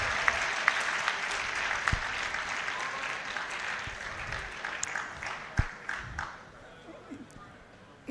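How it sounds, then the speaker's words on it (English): A crowd at a university orientation programme applauds steadily throughout, a dense patter of many hands clapping that slowly thins out near the end. "Shall we clap one more time"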